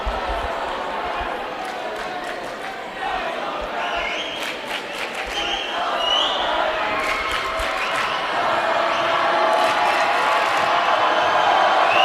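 A loud high school boys basketball crowd in a packed gym, Lone Peak at American Fork, keeps up a steady roar of cheering and clapping that builds over time, with a ball bouncing on the court and an announcer talking over it.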